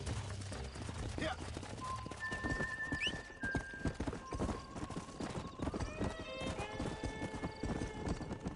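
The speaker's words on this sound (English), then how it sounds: "We got some fine horses." Horse hooves clip-clopping steadily on the ground with a neigh partway through, from the Red Dead Redemption video game, set against game music and ambience with some talk.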